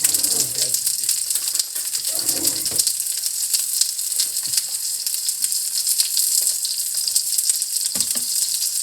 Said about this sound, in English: Eggplant absorbs so much oil in the beginning, so you want to make sure that you lightly lightly sear them